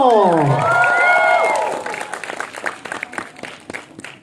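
Audience applause and cheering swell beneath a loud sweeping tone, then continue as steady clapping from a crowd.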